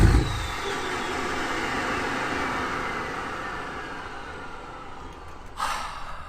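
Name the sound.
2022 Chevy High Country Duramax diesel truck engine running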